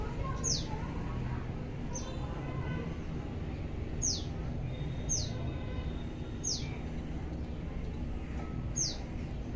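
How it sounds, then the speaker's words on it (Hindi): Small baby birds chirp in short, high, thin peeps that repeat every second or so over a steady background hum, faint and somewhat distant. "आपको चिड़िया के छोटे छोटे बच्चे कैसे लगे"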